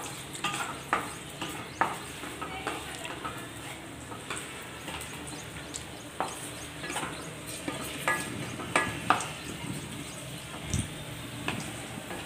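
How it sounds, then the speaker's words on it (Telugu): Bread pieces sizzle softly in hot oil in a pan for bread halwa, a quiet steady frying hiss broken by light stirring scrapes and clinks, with no talk. "ఆయిల్లోనే వేసేసాను, వేయించుకున్నా."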